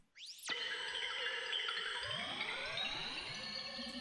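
RPG revive or healing spell with shimmer reverb: a fast rising sweep blooms into a lush, sparkling sustained wash with cascading swirling tones underneath, held evenly for several seconds, quiet and solitary.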